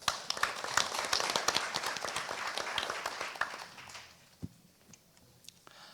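At a Korean quality-of-life measurement forum, an audience applauds to welcome the session chair, Professor Han Joon of Yonsei University, with dense clapping for several seconds that fades into a few scattered claps.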